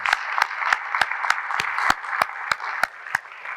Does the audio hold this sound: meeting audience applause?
yes